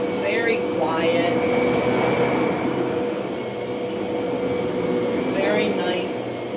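Electrolux Oxygen 3 vacuum cleaner running steadily on a low-pile setting, a continuous whirring motor hum with a fairly quiet brush roll, heard close and unbroken throughout while a voice talks faintly over it.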